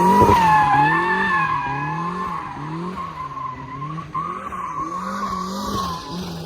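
Tires squeal continuously as a Mazda Miata drifts sideways in a donut, the pitch rising and falling in a wavering pattern over a steady engine drone, loud and close throughout.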